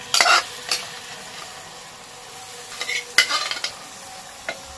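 A spoon stirs boiled banana stem into spice masala in a pan for a thor ghonto with prawns, making a few brisk scraping bursts over a soft, continuous sizzle, with quiet pauses between strokes.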